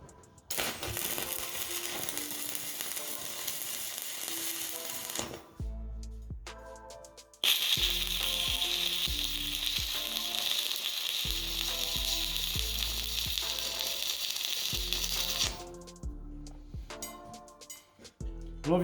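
Arc welding with a Dyeco Super Alloy SP rod into a 9/16-inch hole in 1-inch-thick metal to remove a broken stud gives a steady, close, crackling sizzle. The arc cuts out briefly once, then resumes and keeps going for a long stretch.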